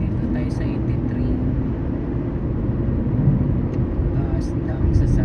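Steady roar of heavy highway traffic on Interstate 83 near Kansas City, many vehicles rushing by as a continuous dense rumble heard from inside a moving car, with faint swells and brief higher hisses near the end.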